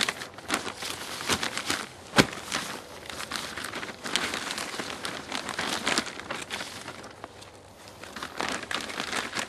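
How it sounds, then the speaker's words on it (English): A hand strikes the side of a compressed plastic bag of compost potting soil, making repeated crinkling, rustling crunches and thumps with one sharper slap, close and fairly quiet. "You find sometimes you can just hit it on the side and break these ends over."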